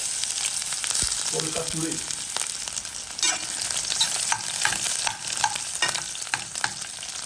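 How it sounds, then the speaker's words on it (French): Onions fry in a hot pot, a dense crackling sizzle with stirring scrapes as a rougail cooks, while someone speaks briefly over the sizzling. "Maintenant, je suis au cassoulet. Je mets mes oignons."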